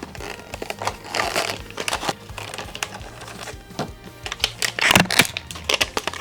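Crinkling and crackling of plastic packaging being torn open around a Beyblade Burst Rise Judgement Joker top, with irregular close crunches and snaps that swell toward the end, no talk.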